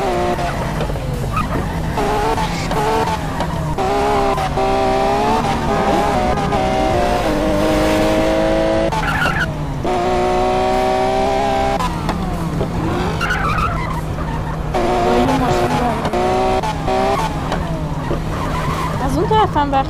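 An Iranian police car in a GTA-style mobile video game drives and skids, with continuous engine drone and repeated tire screeches over game sound, while someone talks throughout.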